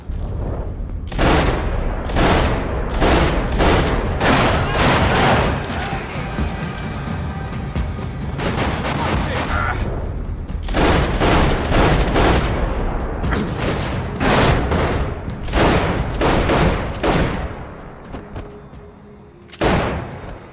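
A gunfire shootout in the video game Max Payne 3: loud repeated bursts of rapid shots and booming fire in clusters, with brief lulls between volleys, lasting around twenty seconds and no talking.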